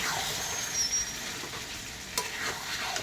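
Goat mutton pieces sizzling and braising in a pan with oil, a steady close hiss with a few light scraping stirs and utensil knocks, no voices.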